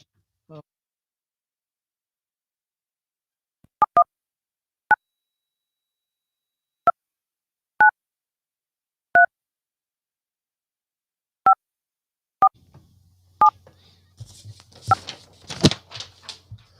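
Telephone keypad tones from dialing a phone number, a string of about ten separate dual-tone beeps at irregular intervals, followed by a ringback and some clicks and rustle as the line connects.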